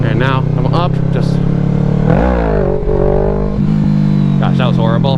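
A motorcycle engine revving hard in first gear, close and loud, its pitch climbing and falling in rough sweeps with brief dips between pulls.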